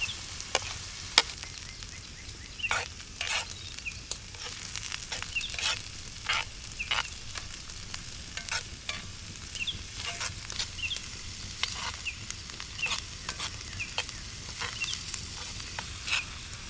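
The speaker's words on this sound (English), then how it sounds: "We then add the white onions, we give it a mix and we sear them until they get translucent." White onions searing in a hot pan for a Danube Delta fish stew, a steady close sizzle broken by repeated scraping stirs of a utensil, with no voices.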